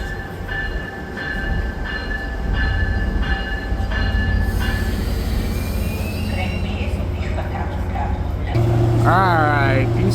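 Passenger train idling at a station platform on track 2, a steady loud rumble with humming engine tones, a brief squeal and a whistle-like tone near the end, with a voice over the loudspeaker.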